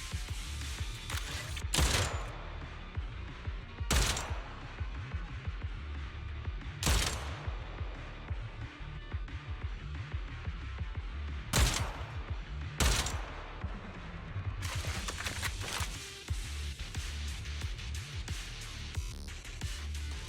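Gunfire in the video game Zenless Zone Zero as high-pressure ether tanks are shot, loud bursts of rapid shots in separate volleys every few seconds over a continuous game ambience.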